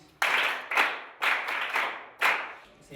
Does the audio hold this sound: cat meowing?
no